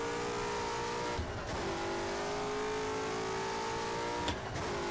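A racing car engine in the rFactor video game holds a loud, steady high whine, broken twice by brief gear-change dips before the pitch settles again, with no speech.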